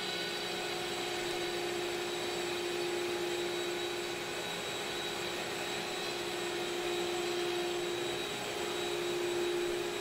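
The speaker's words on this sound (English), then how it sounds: "I had to go turn the vacuum off, the main hold down vacuum" Steady droning whine of a CNC router's vacuum hold-down pump, a constant loud hum with fixed tonal lines and no change in rhythm, running alone without any talk.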